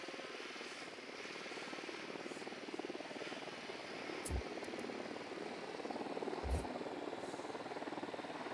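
An enemy helicopter approaches in the video game Ghost Recon Wildlands, its steady rotor and engine drone continuous and moderately loud throughout, with two brief low thumps partway through.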